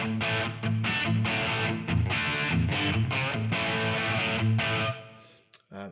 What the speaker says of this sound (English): this is what the Brit 2203 sounds like straight out of the box